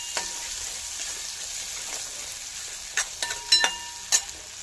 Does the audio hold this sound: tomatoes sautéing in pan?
yes